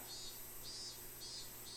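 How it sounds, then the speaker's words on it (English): A stock anime cicada sound effect buzzes steadily, with a shrill chorus that pulses in slow waves and no voices over it. "Classic anime cicadas."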